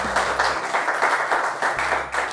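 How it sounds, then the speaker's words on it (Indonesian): Students in a classroom lesson clap for a classmate named Cahyana, a steady burst of close, even applause with small rhythmic swells throughout, no voices. "kita beri tepuk tangan untuk Cahyana"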